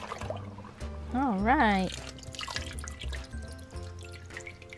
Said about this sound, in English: put some water on top of you